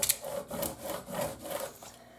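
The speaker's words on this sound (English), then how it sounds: "so I'm going to rub that some more" Vinyl transfer tape being rubbed down firmly onto a coffee tray surface, a steady scraping rub in repeated strokes, about five even passes, close and moderately loud with no talking.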